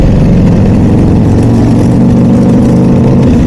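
A Ducati Desmosedici motorcycle engine running close by, a loud, throbbing low rumble with steady pulsing firing beats and no break.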